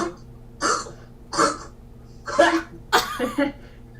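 A voice imitates coughing: four or five rough, hacking bursts spaced unevenly, close and moderately loud, with quiet gaps between.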